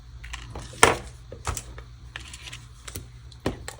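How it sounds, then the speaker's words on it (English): Snips trim out a piece of card stock in a few faint, irregular snapping clicks, with one sharper cut standing out, close and quiet with no voices. "so I'm just going to trim this out with my snips"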